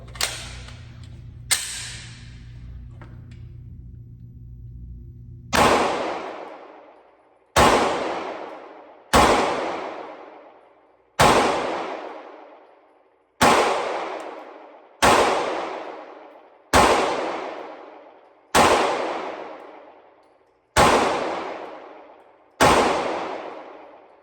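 A Walther PDP F-series pistol fires about ten sharp, loud shots at an irregular, fairly steady pace, each crack ringing out and decaying into a long echo, after a couple of softer clicks and handling noises at the start.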